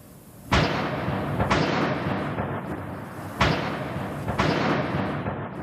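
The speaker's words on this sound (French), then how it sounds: "Des échanges de tirs intenses." Sharp, loud blasts of gunfire at dawn during a police raid, several heavy reports spaced irregularly with a lingering roar and echo between them.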